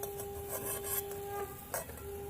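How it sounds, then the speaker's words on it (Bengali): Nimki, salty fried snack strips, sizzle in hot oil with a steady close hiss and faint scraping from a stirring utensil. No one speaks. "পুরো দোকানের মতো নিমকিগুলো হচ্ছে ভাজা"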